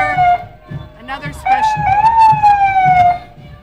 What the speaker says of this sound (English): you get a siren and you just can't stop playing with it